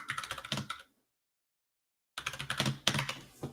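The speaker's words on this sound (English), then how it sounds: "I could type Treasury yield" Rapid clicking keystrokes on a computer keyboard, close and crisp, in two bursts separated by a silent pause of over a second.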